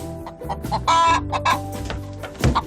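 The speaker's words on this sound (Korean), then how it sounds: "그냥 산란할 때가 되어서 우는구나 라고 생각했다." A hen clucks around egg-laying time near a cat house where she lays eggs, giving a close series of short clucks, a louder drawn-out squawk and a final burst of clucking.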